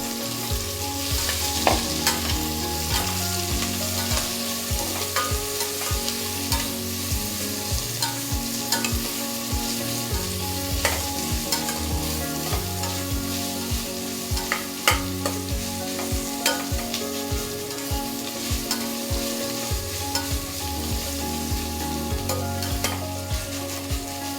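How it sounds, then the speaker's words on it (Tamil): Onions and green chillies sautéing in oil in a pan for a millet biryani, a steady loud sizzle with frequent scraping stirs of a spoon throughout, no voices. "வெங்காயத்தை போட்டு வெங்காயம் கொஞ்சம் நல்லா வதங்கட்டும்."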